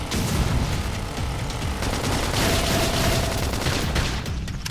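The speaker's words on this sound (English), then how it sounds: "Flame grenade!" Flame grenade attack in Xenoblade Chronicles X, a dense crackling burst of blasts and rumble that fills the clip continuously with loud, rapid explosive textures.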